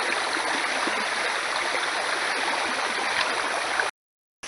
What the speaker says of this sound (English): The water from the pond is coming out here.